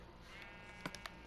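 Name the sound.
sheep bleating in Minecraft, from a video game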